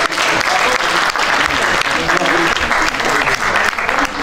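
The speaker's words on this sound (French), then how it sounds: "On va quand même l'applaudir" Audience at a film debate applauds, loud dense clapping from a roomful of people sustained evenly throughout, with some voices mixed in.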